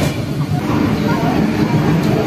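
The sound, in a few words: Howrah Ranchi Intercity Express train running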